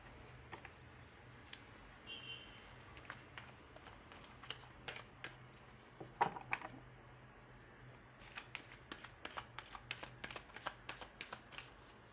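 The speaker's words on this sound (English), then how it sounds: "I'll be cutting a deck in 3 parts" A tarot card deck being shuffled and cut in a quiet room: soft riffling and light, crisp card clicks that turn into a denser run of rapid taps near the end. Nobody speaks.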